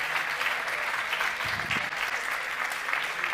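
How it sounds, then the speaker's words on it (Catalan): An audience applauds the Santanyí culture councillor at a second-anniversary school celebration and prize-giving, a steady moderate round of clapping with a brief low thump partway through. "Un aplaudiment, per favor."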